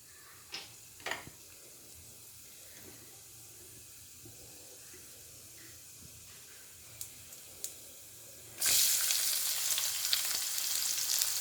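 Spices and turmeric frying with curry leaves in a pan for an egg pepper fry, sparse stirring clicks over a quiet background, then a sudden loud hissing sizzle taking over near the end.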